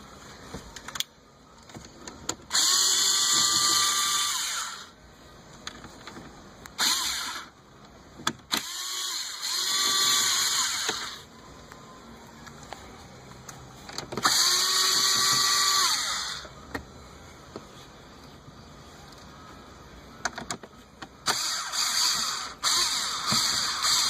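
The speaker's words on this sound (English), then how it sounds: "We're going to need to get these screws out right here" A power drill backs screws out of interior trim on a Hyundai Sonata, several bursts of high whirring motor noise, each a few seconds long, with short pauses and small clicks between them.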